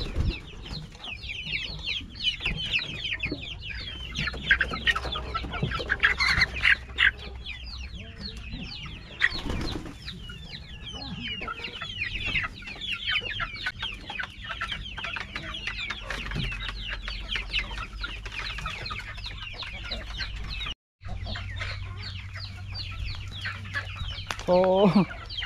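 Free-range chickens cluck and squawk continuously close by, many birds at once, with occasional wing flaps and a few rooster-like calls over a low background hum.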